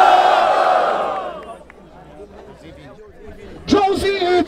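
A crowd at a rap battle in Barueri, São Paulo, shouting over an amplified host, then dropping to a murmur before a loud burst of cheering and yelling near the end.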